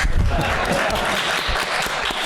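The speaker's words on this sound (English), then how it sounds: "You can clap, it's okay." Audience at a national lawyers convention panel on stare decisis in civil rights cases breaking into steady, dense applause, loud and sustained across the brief stretch.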